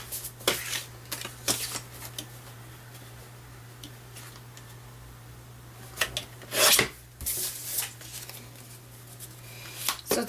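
Paper being trimmed for card making, giving soft scraping and rasping strokes in short bursts with pauses between, close and fairly quiet over a steady low hum.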